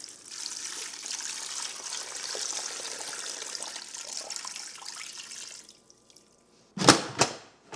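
About 1.5 liters of water pours steadily into a pot for several seconds, then stops; a couple of sharp knocks follow, nearby and fairly quiet.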